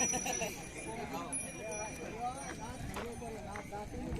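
Bullocks and pairs of draught oxen walk through a crowded tribal weekly cattle market near the Satpura foothills, hooves clopping irregularly beneath continuous loud crowd chatter and voices.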